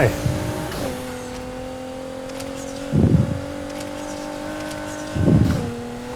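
Nissan GTR with a Bensopra body kit in Need for Speed Heat, its engine droning steadily while three loud bursts of impact or tire noise break in at intervals.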